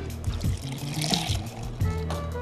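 Sour mix poured into a margarita glass, a close, soft trickle and gurgle of liquid running steadily for a couple of seconds with no talk over it.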